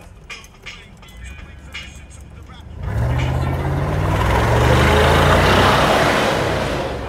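A Mercedes G-Wagon AMG with a stock, muffler-less exhaust accelerates hard at a cars-and-coffee meet in Daang Hari, its deep engine roar swelling loud and sustained after faint background chatter.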